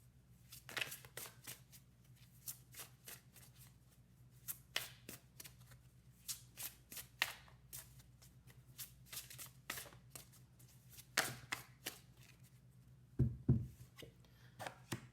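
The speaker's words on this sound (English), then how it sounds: "We're going to pull 3 cards, 1 card for self, for spirit, and a card for connections." Tarot cards are shuffled in soft, quiet bursts of riffling and slapping, repeating irregularly over about fifteen seconds in a still room with no speech.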